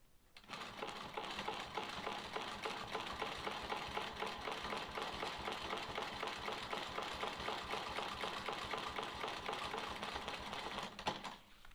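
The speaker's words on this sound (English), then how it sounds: "I'm just going to stitch along that line and back up here." A sewing machine quilting one long straight line of stitching on a sawtooth star quilt block runs steadily and fast for about eleven seconds, a close, even mechanical whir and clatter that starts and stops abruptly.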